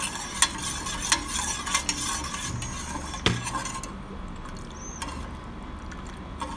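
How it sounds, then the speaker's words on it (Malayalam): A spoon stirs sugar syrup for rasagulla in a pan, scraping and tapping against the metal in uneven strokes over a soft bubbling hiss, close and fairly loud. "നന്നായിട്ട് നമുക്കിതൊന്ന് ഇളക്കി കൊടുക്കണം."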